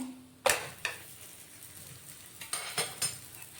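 A lachha paratha cooking on a pan: a thump as it is flipped, then a soft sizzle with a few scattered scrapes and clinks against the pan.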